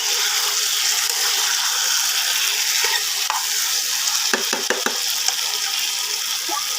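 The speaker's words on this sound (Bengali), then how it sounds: "এবার এটাকে ভালো করে কষিয়ে নিই বন্ধুরা" Chicken sizzles steadily with spices in a pan for doi chicken, while a spatula scrapes and taps the pan in a quick cluster of knocks over a continuous frying hiss.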